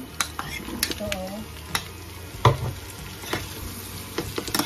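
Food browning in a hot pan sizzles softly while a utensil stirs and scrapes the pan in irregular clicks and knocks, fairly quiet and close.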